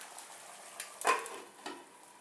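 Chinese dumplings fry in a covered pan with a quiet, close sizzle, broken by a few brief clinks and bursts of louder spitting about halfway through.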